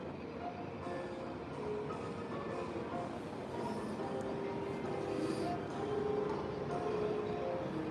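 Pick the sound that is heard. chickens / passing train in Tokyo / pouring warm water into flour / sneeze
passing train in Tokyo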